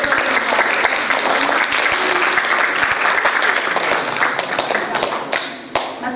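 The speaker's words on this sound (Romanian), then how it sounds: "Ziceți ceva, aplaudați," Audience applause at a literary event in Pașcani, dense and sustained clapping that fills the room at steady loudness before thinning slightly toward the end.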